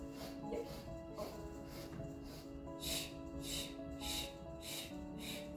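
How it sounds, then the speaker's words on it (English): Five quick, rhythmic sniffing inhales through the nose during a Pilates breathing exercise, evenly spaced and close, with no talking. "5 inhales through the nose, like sniffing"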